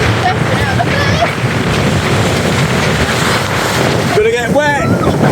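Heavy rushing water and wind roar continuously as a sailboat slams through choppy seas at night at nearly 6 knots, with brief shouted voices breaking through near the end.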